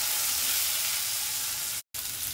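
Thinly sliced onion frying in oil with mustard and cumin seeds for a South Indian potato fry, giving a steady close sizzle and hiss with a brief dropout near the end.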